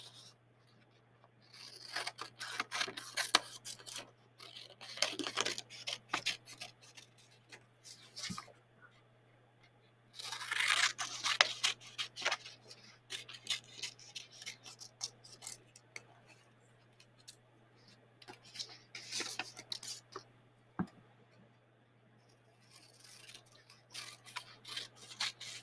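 Scissors snip through paper to cut out separate leaves for handmade flowers and stems, in several bursts of quick crisp snips and rustling paper, close and clear, with pauses between passes.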